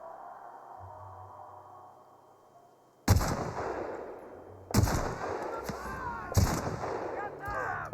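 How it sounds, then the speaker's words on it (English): Hunting rifle shots in The Outer Worlds: three loud, sharp booms spaced a second or two apart, each with a long rumbling tail, after a quiet stretch of low background music. "There's our hunting rifle."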